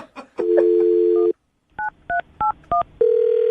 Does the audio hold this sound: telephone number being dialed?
yes